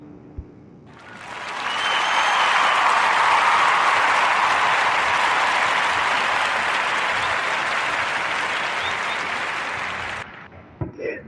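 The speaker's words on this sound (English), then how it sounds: "Give a warm narrative podcast round of applause for Mr. Mark Hanna and his contributions." A warm round of applause from a crowd swells quickly, holds as dense steady clapping for about eight seconds, then stops abruptly.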